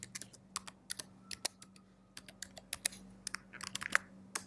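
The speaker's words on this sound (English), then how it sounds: "we need to type our new password" Keys clatter in quick irregular bursts as a password is typed on a computer keyboard, faint, sharp clicks with short pauses between groups, over a quiet background hum.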